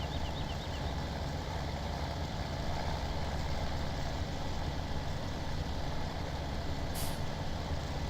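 A farm truck rumbles steadily through a crop field in Farming Simulator 17, a continuous loud engine drone with a brief hiss late on, and no other sounds.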